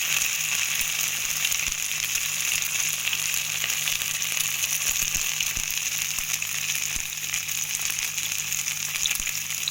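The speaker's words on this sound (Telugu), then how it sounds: "స్టార్టింగ్ మనం చామదుంపల్ని ముక్కలు వేస్తామండి, డీప్ ఫ్రై అవుతుంది" Large pieces of taro (chamadumpa) deep frying in hot oil give a steady, loud, dense sizzle that runs unbroken throughout, with no voices over it.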